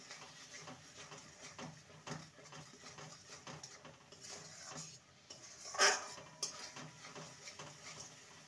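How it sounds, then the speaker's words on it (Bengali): Prawn curry being stirred in a pan after warm milk is poured in, giving soft scraping and clinking of a utensil against metal, with one sharper clatter midway, fairly quiet throughout. "ভালো করে নেড়ে নেব।"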